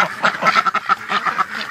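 Several ducks quacking close by outdoors, a busy overlapping chorus of repeated nasal calls with no talk over it.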